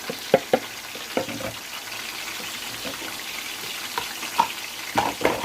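Food fries in oil in a home kitchen, a faint steady sizzle broken by several sharp pops and spatters, with no talking.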